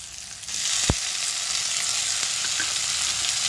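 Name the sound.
onion, tomato and green chili frying and being stirred in pan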